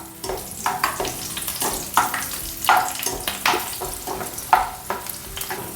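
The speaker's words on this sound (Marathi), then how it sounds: "आता याच्यात घालते 4 सुक्या मिरच्या आणि 4 हिरव्या मिरच्या." Dried and green chillies frying in hot oil for puffed rice chivda, a steady sizzle broken by repeated scraping stirs, close and moderately loud.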